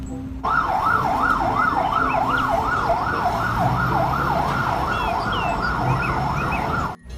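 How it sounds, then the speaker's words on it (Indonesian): A fire truck siren wails in a fast, rising-and-falling pattern, loud and close, over traffic rumble, cutting off abruptly near the end. "Wah, kita mendapatkan damkar pemadam kebakaran."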